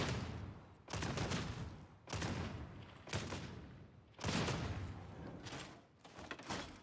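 Boltgun firing in Warhammer 40K: Darktide, a Veteran's weapon spending two shells per trigger pull, heard as heavy booming blasts in quick bursts with brief gaps between, loud and close, with no talking.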